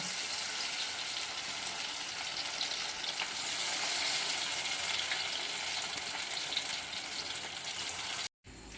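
Chicken pakora frying in oil in a pan over a low gas flame, a steady dense sizzle and crackle running without a break, close and fairly loud, with no voices over it.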